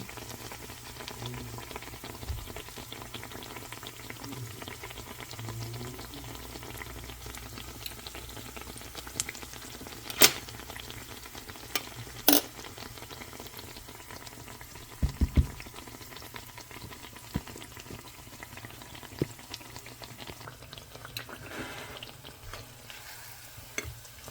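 Arepa dough frying in a pan, a steady low sizzle and bubbling running throughout, with a few sharp clicks and knocks as the pieces are flipped.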